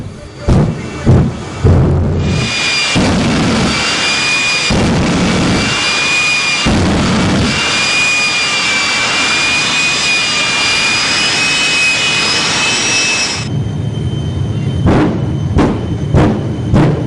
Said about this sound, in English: The whole building shakes under the thrust of the afterburners.